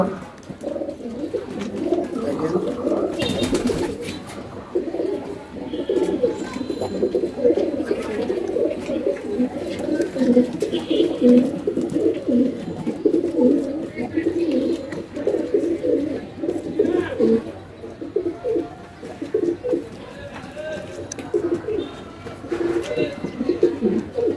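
Pigeons coo repeatedly in soft, low, rolling calls close by, overlapping in a continuous chorus, with a brief clatter near the start.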